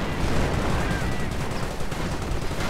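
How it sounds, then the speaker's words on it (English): Artillery fire in a World War II strategy video game, a dense, steady barrage of rumbling blasts and gunfire with a commentator's voice over it. "And more artillery just hammering away."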